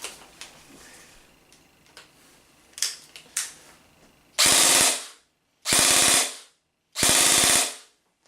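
A G&G CM16 SRL airsoft rifle on an 11.1 volt LiPo fires three loud, rapid full-auto bursts of about half a second each, separated by short pauses, after quieter handling noises.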